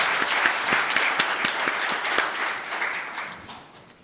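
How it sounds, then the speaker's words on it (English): Audience applause for panelists closing a diversity, equity and inclusion discussion: a crowd claps in a brisk, sustained patter at moderate volume, tapering slightly near the end, with no voices over it. "give a big round of applause to these incredible panelists"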